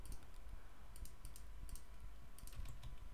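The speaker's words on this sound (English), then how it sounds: "if I type in portal," Faint clusters of quick keyboard clicks from typing on a computer keyboard sit over a low steady background hum.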